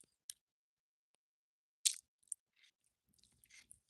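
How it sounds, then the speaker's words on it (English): Someone eating lunch at a desk, with a few sparse, faint crunchy bites and mouth clicks separated by quiet pauses. "I'm gonna be chewing."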